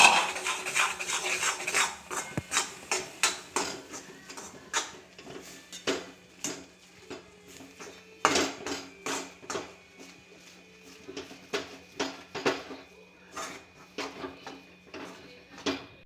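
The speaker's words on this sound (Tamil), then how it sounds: "மாவை போட்டு கிண்டுங்க." A spoon scrapes and knocks against a metal pot while stirring ragi flour dough, a steady run of clinks and scrapes, close by, with faint talk now and then.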